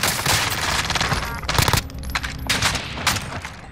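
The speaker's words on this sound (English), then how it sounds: "Shit, we're getting shot from someone else." Rapid gunfire bursts in Call of Duty Warzone, loud and close, with dense automatic volleys and sharp, heavy shots crackling through a busy in-game battle.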